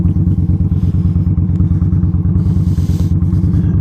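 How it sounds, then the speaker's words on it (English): A motorcycle idles and rolls slowly at a safety-course practice area in Chattanooga as the clutch is let out, a loud, close, steady low engine thump with a regular pulsing beat. "they'll have you actually walk the bike. It's like this, where you're letting out the clutch"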